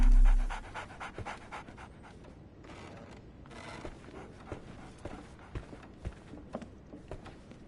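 A dog panting in Sherlock Holmes The Awakened, soft irregular breaths and faint shuffles after a brief louder sound at the start, close and quiet with no voices.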